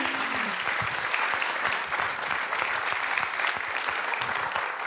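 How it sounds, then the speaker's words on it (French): An audience at a resilience forum in the Rouen Normandie metropolitan area applauds, a dense, even wash of many hands clapping that holds steady for several seconds. "On peut les applaudir, s'il vous plaît."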